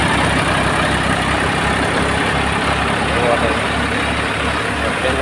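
A tractor-driven Shaktiman wheat thresher runs with a steady, loud mechanical drone and broadband rumble that fills the whole stretch without letup.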